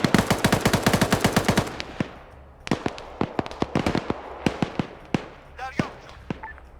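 A fast burst of automatic gunfire, then scattered single shots and short volleys, loud and echoing, with a brief voice near the end.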